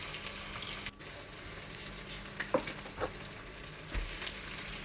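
Minced beef for a ground-beef kaldereta sautés quietly in a pan: a faint, steady sizzle with a few small pops and clinks, no talking.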